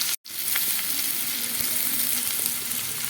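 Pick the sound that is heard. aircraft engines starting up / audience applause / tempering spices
tempering spices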